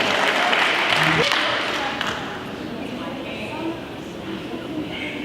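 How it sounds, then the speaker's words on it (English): Audience applause at a podium event welcoming a speaker, a broad wash of many hands clapping that starts loud and slowly tapers, with scattered cheers and voices over it. "can you give him a round of applause?"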